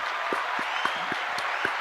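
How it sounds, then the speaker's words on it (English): A small group at a podcast recording claps for a high school boys basketball team, sparse, spaced claps in a slow beat over a steady hum of room noise. "let's clap it up for them"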